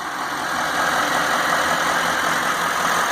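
A 2012 Chevy Silverado 3500HD 4x4 with a Duramax diesel engine idles with a steady, loud, even rumble throughout, close by and with no talking.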